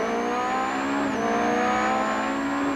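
British touring race cars, a BMW and a Toyota, howl past at full racing speed, a sustained high engine whine with a slight pitch dip midway, loud and continuous with no voice over it.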